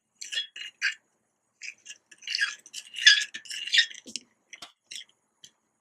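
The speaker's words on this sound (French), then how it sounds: "je vais mettre un peu d'eau et mélanger au fur et à mesure" Green clay and water stirred into a thick face-mask paste in a small bowl, with intermittent scraping, clicking and tapping of the spoon against the dish in short close bursts separated by silence.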